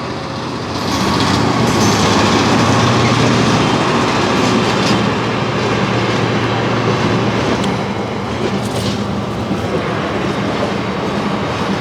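A heavy Class 66 diesel locomotive rumbles past, its deep engine drone steady under rhythmic wheel clatter, loud and close throughout.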